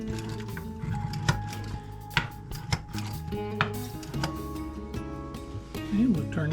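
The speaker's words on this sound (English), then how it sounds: "Trying out my new push whisk. Works pretty good for getting the stuff on the bottom." A push whisk scrapes and stirs creamy shrimp tortellini Alfredo sauce in a pan, making a close, irregular series of light clicks and scrapes over a soft, steady kitchen background.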